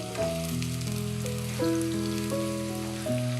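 Onions frying in oil until golden brown for Lahori bong paye keep up a continuous sizzle, with a sustained melodic tone running over it throughout.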